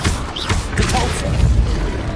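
A spell cast in Hogwarts Legacy, a dense rumbling burst of magical impact noise with low thuds and crashing texture sustained over about two seconds, loud and busy throughout.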